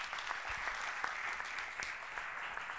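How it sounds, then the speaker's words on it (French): Applause from the audience at a marathon awards night, a steady wash of many hands clapping at moderate level and continuing without pause throughout. "Bravo, tonnerre d'applaudissements pour les Foulées de Bourgard."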